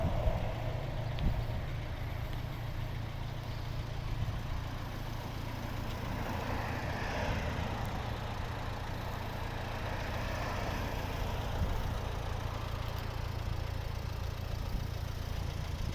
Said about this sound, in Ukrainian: заведений, працює ні пару, ні диму, вихлопна чиста